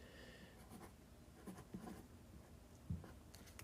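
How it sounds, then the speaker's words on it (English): Erasing a tabletop game board by hand, a quiet series of soft scrubbing strokes and light taps, close and intimate against faint room hiss, with no talking. "We're gonna erase this."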